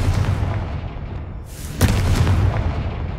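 Confringo fire blast spell cast in Hogwarts Legacy, a loud booming burst that erupts suddenly midway over a rumbling, continuous game soundscape, standing alone without talk.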